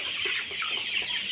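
Sonali chickens at a poultry-rearing setup cluck in a brief run of close, overlapping calls.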